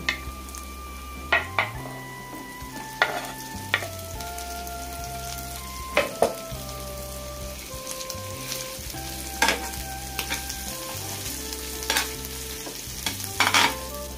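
Chicken liver with ginger-garlic paste and turmeric fries in a pan, a steady close sizzle punctuated by periodic spoon scrapes and clinks against the pan, with a faint hum underneath and no speech.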